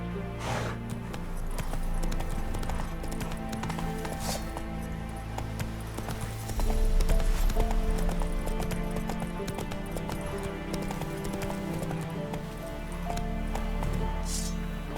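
Roach the horse from The Witcher 3 gallops with a rapid, steady clip-clop of hooves, while rustling and scattered game effects sit under it and a few brief louder bursts break through; no one talks.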